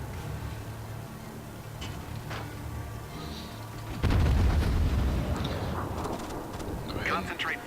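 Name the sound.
USS Phoenix firing guns in World of Warships video game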